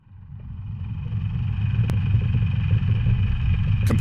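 A pressure washer running with a long hose and a fixed high-flow pipe cleaning nozzle gives a deep rumbling roar that builds over the first seconds and then holds steady, loud and close, with no voices.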